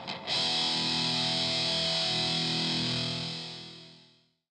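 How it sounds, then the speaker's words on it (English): A heavily distorted electric guitar chord strikes after a brief pick scrape, rings out bright and saturated for several seconds, then fades to silence; no voices. "and even distorted sounds."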